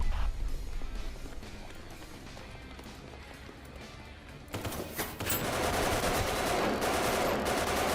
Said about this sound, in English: use the machine gun